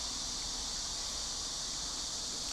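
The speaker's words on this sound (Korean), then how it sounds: "매미 소리 좋네" Cicadas drone outdoors in a faint, unbroken high-pitched buzz that stays even throughout, distant and quiet with no speech over it.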